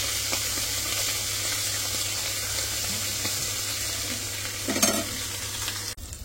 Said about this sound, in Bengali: এই হলো মানে অনেকগুলো মুরগির মাংস, এগুলো আমি একবারে রান্না করে নিতেছি